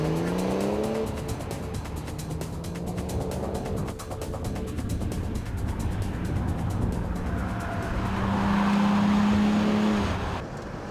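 A performance car with Tiptronic transmission is driven hard on a road test, engine revving and tires squealing while speed builds, loud and close, with the engine note climbing steadily toward the end.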